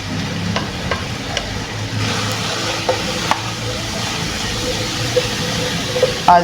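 Chopped carrots and other vegetables stir-fried over high heat for a chicken vegetable chowmein, a steady close sizzle with repeated sharp scrapes and taps of a utensil against the pan, no talking.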